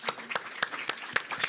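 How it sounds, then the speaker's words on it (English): A small audience applauds in a medical panel Q&A hall, with scattered, uneven claps of moderate loudness across a short burst. "so round of applause for"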